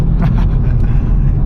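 A BMW 340i engine heard from inside the car while driving, a loud, steady low rumble that stays even throughout.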